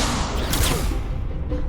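A spell-casting effect from the Hogwarts Legacy game on PS5, a dense burst of magical whoosh and crackle with a brighter swell near the middle, sitting loud and continuous within busy combat noise.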